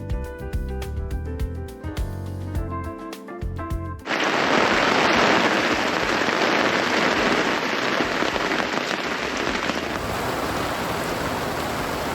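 Steady, dense rain hiss sets in abruptly after a few seconds of music, then continues loud and unbroken to the end.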